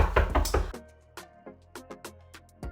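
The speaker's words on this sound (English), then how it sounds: "And she's knocking." Knocking on a door, re-enacted: a loud burst opens the clip, then a string of sharp, irregular raps rings out close by.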